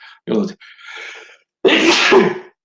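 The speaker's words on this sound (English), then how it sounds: "I think I'm going to sneeze." A single loud sneeze with a sharp, breathy burst, following a few short vocal sounds and a brief pause.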